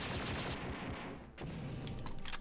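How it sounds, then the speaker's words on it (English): An auto gun in Star Wars: Dark Forces fires at turrets in a dense, continuous rapid burst. The loud barrage dips briefly in the middle, then resumes. "The auto gun is one of my favorite weapons to use to take turrets out"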